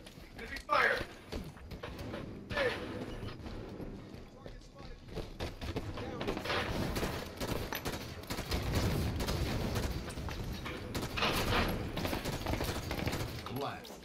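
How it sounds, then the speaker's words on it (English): Sustained automatic gunfire in the Halo 5 video game, busy overlapping shots and bursts that build in density, with people talking excitedly over the fighting. "Enemy fire!"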